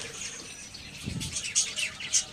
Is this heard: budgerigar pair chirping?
yes